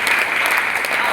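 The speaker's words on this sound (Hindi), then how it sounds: "एक बार ताली बजा दीजिए" Seminar audience clapping together at an RCM product talk in Bhilwara, a dense steady burst of many hands, close and loud throughout the short stretch with no voices over it.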